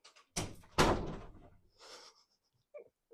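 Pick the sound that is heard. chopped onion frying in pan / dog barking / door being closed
door being closed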